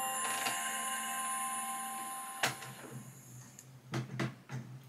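A new home printer powers up with a steady electronic whine and hum, then cuts off into a series of clicks and mechanical clunks as it begins its setup cycle.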